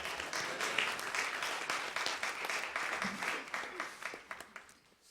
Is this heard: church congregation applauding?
yes